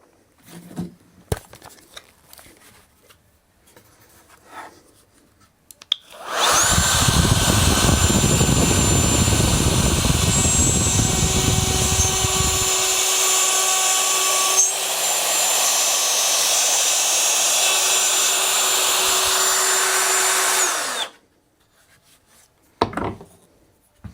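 Festool MFK 700 router spins up and cuts wood, a loud sustained high whine with a rough grinding cut for several seconds before settling to a steady whir and stopping, with quiet handling sounds before and after.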